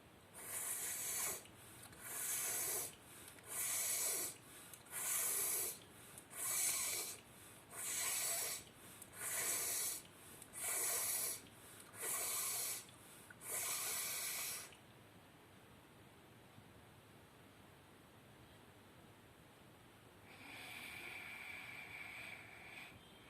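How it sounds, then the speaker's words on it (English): Sitali pranayama breathing, air drawn in through the curled tongue, comes as ten rhythmic hissing inhalations in quick succession, followed by a quiet pause and a longer, softer exhale, close and clear without talk. "Sitili pranayam, breathing through tongue."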